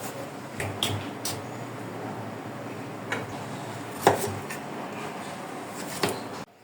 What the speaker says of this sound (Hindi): मैंने ये सब्जियां काट ली हैं